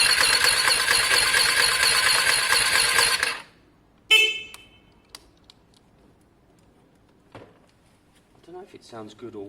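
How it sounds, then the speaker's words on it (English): A Lexmoto Diablo 125cc motorcycle engine revs loudly for about three seconds and then cuts out abruptly, leaving near silence broken by a sharp click, a few faint knocks and a brief voice at the end. "let's put some revs in there."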